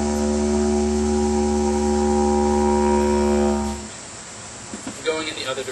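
A didgeridoo played with tightened lips gives a steady, resonant drone with strong even harmonics for about four seconds, then stops, followed by faint scattered noises.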